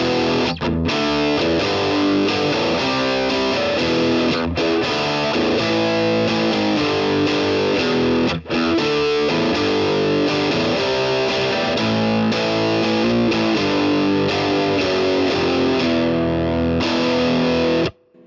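Electric guitar played through a Boss DS-1 distortion pedal, a loud, continuous run of distorted riffs and sustained chords with brief gaps, steady to the end with no talking.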